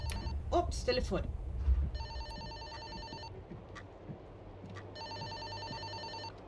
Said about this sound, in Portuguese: Telefone.